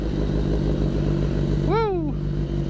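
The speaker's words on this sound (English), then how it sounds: "So let's do another cold start." A motorcycle fitted with a full exhaust system runs loud at a steady, low, throbbing idle after a cold start, and a short whooping vocal sweep rises over it partway through.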